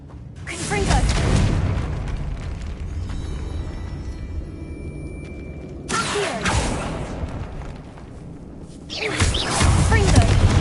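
A Confringo blasting spell in Hogwarts Legacy, loud booming fiery bursts with whooshing tails that erupt, fade, and erupt again in quick succession.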